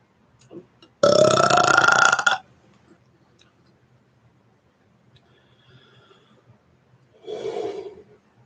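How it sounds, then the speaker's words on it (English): A single long, loud, rasping burp drawn out for over a second, followed by quiet and then a shorter breathy yawn-like gasp for air. "I have to yawn in more oxygen because it took so long to burp."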